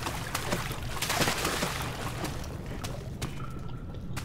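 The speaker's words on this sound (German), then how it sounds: "Weil es einfach mal so geplatscht hat." Splashing and sloshing water made by the water monster in the game Amnesia, a run of irregular wet slaps and bursts that thin out toward the end, fairly close, with no talking.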